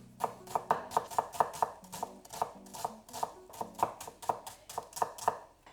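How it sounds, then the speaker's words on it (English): Half a red onion being finely sliced with a knife on a board, a quick run of crisp, close chopping taps in an uneven rhythm with no talk. "We're then going to finely slice half a red onion."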